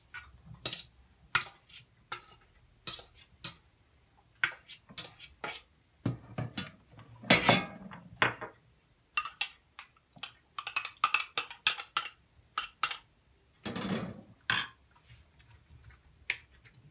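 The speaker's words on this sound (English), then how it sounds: "Mix all the ingredients." Russian salad ingredients, including pickle and cooled pasta, being mixed with a metal utensil in a bowl: irregular close clinks and scrapes in bursts, with scraping runs between.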